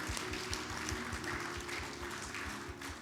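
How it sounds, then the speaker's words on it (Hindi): A church congregation at a Lenten Bible festival claps together loudly in a fast, regular rhythm, a dense continuous pattern of claps with music faintly underneath. "जोरों से ताली बजाएं"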